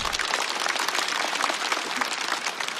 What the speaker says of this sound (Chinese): 再次掌声送给 T Z。